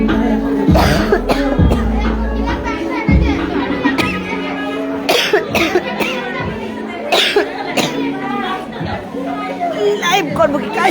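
A person coughs in several sharp, loud bursts spread through the stretch, mixed with nearby chatter and voices of people talking in the room.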